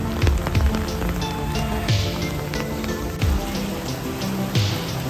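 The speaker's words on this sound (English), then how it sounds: "I'm walking to class in the rain." Steady rain patters on surfaces outdoors while someone walks to class in Singapore, a dense continuous hiss with scattered drop taps and faint footsteps close to the microphone.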